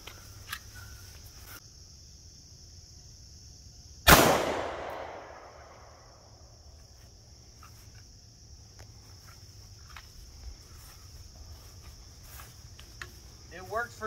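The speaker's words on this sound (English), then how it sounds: "Now I'll try with 9mm." A single sharp 9mm handgun shot fired into a sheet of bulletproof sheetrock cracks out once outdoors, its report decaying over a couple of seconds against a steady chorus of crickets and faint background sounds.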